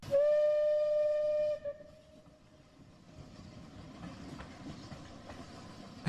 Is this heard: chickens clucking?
no